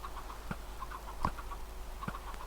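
A few short, sparse Minecraft chicken clucks over a steady low hum, spaced out and fairly quiet, with a synthetic, game-like quality.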